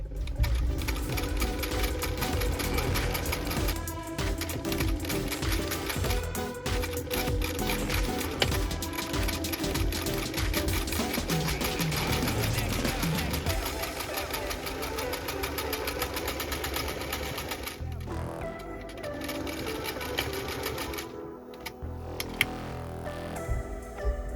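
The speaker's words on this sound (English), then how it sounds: "I very cleverly hemmed the edge of both the satin and the tartan pieces before connecting them together with French seams." A sewing machine runs steadily while stitching French seams joining hemmed satin and tartan pieces, a continuous close rapid mechanical chatter with a brief pause near the end.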